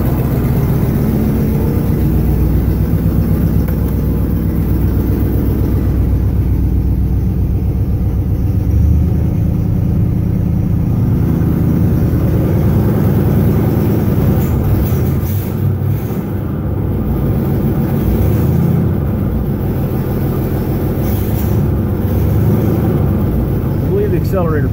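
1959 Cadillac engine idling after a cold start, a loud, steady low rumble that holds an even pace throughout, with someone talking over it at times.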